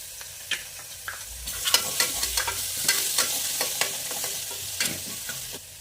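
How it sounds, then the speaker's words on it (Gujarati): Crushed garlic cloves frying with onions in a pan, a steady sizzle broken by sharp clicks and scrapes of stirring, louder and busier in the middle and toward the end. "હવે 8 થી 10 કળી લસણ જે મેં ખાંડી લીધેલી છે એ એડ કરી દઈશું."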